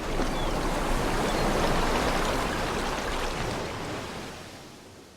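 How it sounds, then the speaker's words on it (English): Tide rolling in on a Cuban shore, a broad continuous rush of surf and washing water that swells and then slowly fades, loud and near with no talk. "let's enjoy a Cuban tide as it rolls in"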